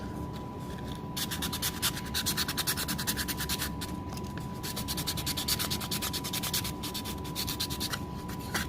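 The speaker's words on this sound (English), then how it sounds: "we want to make sure that we sand these spots away and make sure that we get a smooth surface" Sandpaper rubs rapidly back and forth over an XTC-3D coated 3D print, a close, steady rhythmic scratching with brief pauses, alone without talk.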